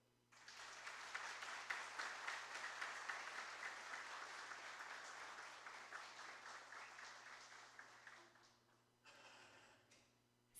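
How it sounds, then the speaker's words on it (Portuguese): Audience at a solemn honorary-citizenship ceremony in Brazil applauds the First Presbyterian Church, a sustained, fairly faint round of clapping that tapers off, then a short second burst. "Uma salva de palmas à Primeira IPB."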